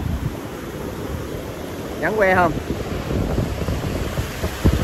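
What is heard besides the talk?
waves and wind at Xuyen Moc beach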